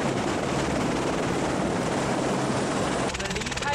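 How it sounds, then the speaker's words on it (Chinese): Helicopter touching down on a snowy New Zealand glacier, a loud continuous rotor roar with wind buffeting, steady and close throughout, the blade chop becoming more distinct near the end. "直升机降落的时候会扬起地上的白雪"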